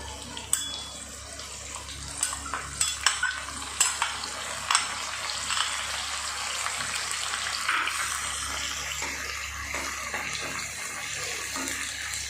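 Ginger garlic paste frying in a pan, a steady close sizzle running the whole time with scattered sharp crackles and stirring clicks near the start, no voices.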